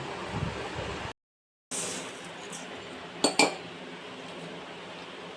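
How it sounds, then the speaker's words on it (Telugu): Half a kilo of sugar pours into a steel bowl as a steady granular hiss, broken by a brief silent gap, then a couple of sharp metallic clinks against the bowl; no one speaks. "ఈ స్టీల్ గిన్నెలో ఈ 2 చక్కెర, హాఫ్ కేజీ చక్కెర వేస్తున్నాను ఫ్రెండ్స్"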